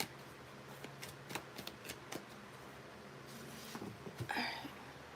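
Quiet riffling and snapping of tarot cards being shuffled, a series of short flicks followed by a longer riffle, close and soft with no talking.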